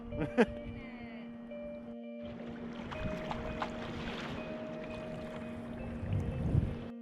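Sea kayak paddled along the coast of Kangaroo Island by the Remarkable Rocks, with soft water swishes and a steady low hum beneath, one sharp knock early on, and light wind noise.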